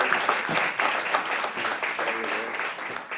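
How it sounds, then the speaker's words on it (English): Audience applause at a biofeedback society conference, a dense, steady wash of clapping from a crowd, with some voices mixed in. "Let's give her a big round of applause."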